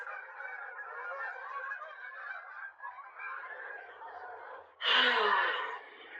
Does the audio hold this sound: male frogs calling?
no